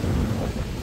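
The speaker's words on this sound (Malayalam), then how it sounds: "ഇവിടെ ഇപ്പൊ മഴയാണ്, മഴ മഴ മഴ" Rain and gusty wind on a Krabi street in Thailand at night, a dense, rumbling wash with heavy low-end wind buffeting on the microphone throughout.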